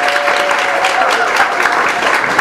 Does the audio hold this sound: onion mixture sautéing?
no